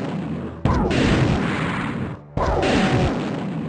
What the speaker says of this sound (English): Start with the missile launcher.